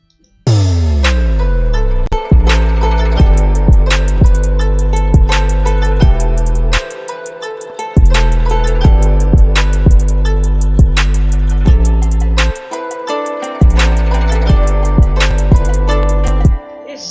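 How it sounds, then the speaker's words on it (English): A beat pairing a booming 808 bass pattern with crisp rapid hi-hats and a plucked Spitfire Labs Moon Guitar melody, loud and dense throughout, with brief drop-outs of the low end between sections. "when I play the whole 8 to 8 pattern and the hi-hats with this moon guitar,"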